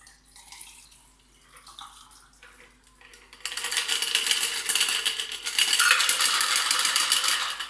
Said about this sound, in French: On va maintenant double filtrer pour éviter d'avoir des pellicules de glace lors du shake.